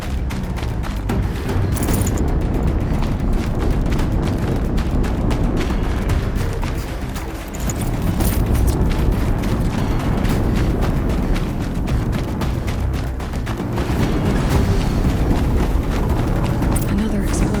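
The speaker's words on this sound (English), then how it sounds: "Another explosion." Explosions from the video game Horizon Zero Dawn, loud and continuous, with dense booming rumble and crackling debris filling the whole stretch, briefly dipping midway before surging again.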